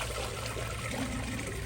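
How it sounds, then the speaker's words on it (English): Water gurgling up through the tube of a Glacier Bay PowerFlush toilet during a bucket flush, a short, steady trickling rush heard close, with no voices. "Let's see if I can capture water coming up through that tube"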